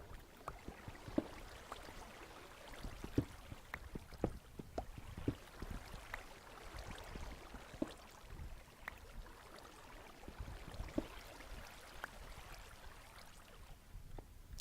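Minecraft water flows and trickles continuously in a cave with small splashes and drips, a steady, moderately quiet wash of sound without voices.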